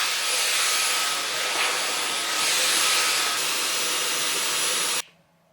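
A Dyson hair styler blowing air through its nozzle, a loud steady whooshing roar with a thin high whine that cuts off abruptly near the end.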